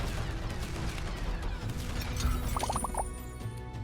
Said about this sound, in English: Put another cannon here.